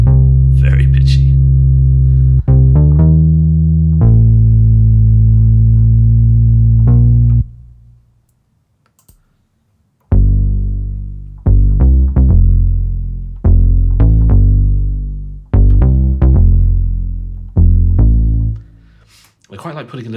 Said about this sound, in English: I quite like putting a little bit of atmosphere, a little bit of reverb on some of these basses.